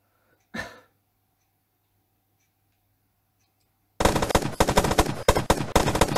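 Rapid bursts of automatic Uzi fire mixed with pistol shots in a multiplayer shooter, loud and dense for a couple of seconds after a long quiet stretch broken by one short thud.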